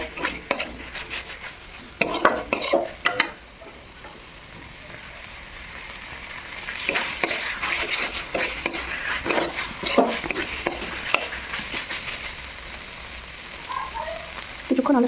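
Potatoes being stirred in a frying pan, with scraping and clattering of a utensil against the pan over a low sizzle, in bursts early on and then a denser, steadier stretch of mixing.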